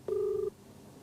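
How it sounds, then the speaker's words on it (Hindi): A single steady telephone ring tone sounds for about half a second as an outgoing call connects, clear and alone against faint background hiss. "तो पक्ष जानने के लिए एक बार फिर से फ़ोन करते हैं।"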